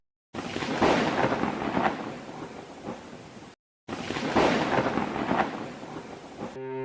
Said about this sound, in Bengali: আর কি জোরে জোরে বাজ পড়ছে